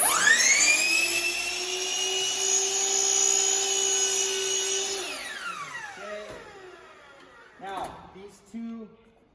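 A power saw trims the top of an end table, its high whining drone holding steady and then spinning down, followed by a few short bumps and knocks as the cut finishes.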